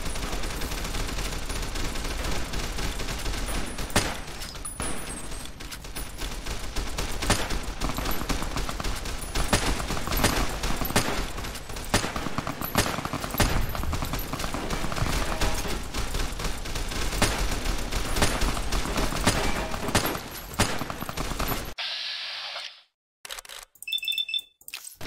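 Dense, continuous gunfire rattles through a Fallout: New Vegas firefight at Boulder City, loud and sustained for about twenty seconds with overlapping bursts, then cutting off abruptly to near silence with a few brief sounds.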